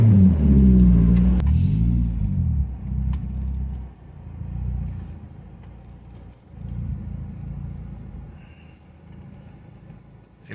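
A Suzuki Vitara converted to run on natural gas idles with a deep, loud rumbling exhaust, revving hard at first with a throaty pulsing roar, then settling into a steadier low idle that swells and fades.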